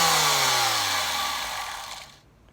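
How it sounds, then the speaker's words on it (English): A handheld electric power planer with spinning blades whirs loudly, then winds down, its falling pitch fading away to near silence within about two seconds. "Here I've got my planer, and at the bottom there are some blades that spin round there."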